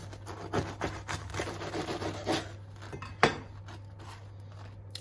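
A knife saws through a baked focaccia with pine nuts and rosemary, giving soft, faint rasping strokes with a sharper crunch near the end, close by and without talk.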